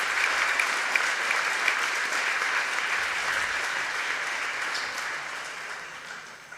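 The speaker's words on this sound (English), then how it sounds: "Please give yourselves a well round of applause." An audience at the Coal Bowl 2023 closing ceremony applauds, with dense continuous clapping from a large crowd that holds steady and then eases off slightly at the end.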